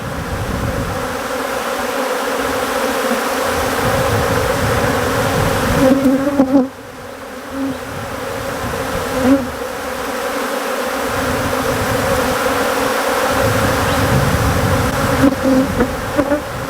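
Africanized honey bee colony buzzing loudly during a new queen introduction, a dense continuous hum close to the open hive that swells and dips slightly, with a brief handling thump midway.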